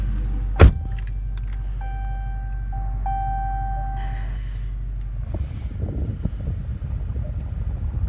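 A sharp button press on a 2019 Dodge Charger R/T with a 5.7L V8, followed by electronic chimes and whirring as the push-button start engages, then the engine settles into a steady rumble.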